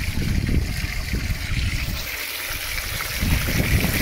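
An 1,100 gallon pump runs water for cleaning up gold concentrates, giving a continuous rushing, gushing flow with a low rumbling churn underneath, close and steady for the whole stretch.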